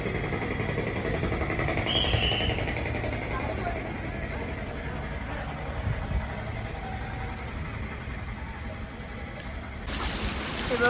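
Water pours steadily at a temple in Shegaon, a constant, broad rushing roar that fills the whole stretch at even loudness, with no clear voices on top.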